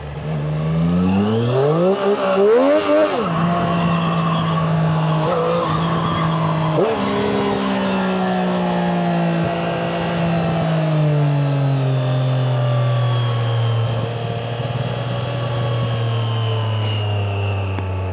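A 765 cc motorcycle engine revs loud and close, pitch sweeping up and down through gear changes before settling into a steady falling drone.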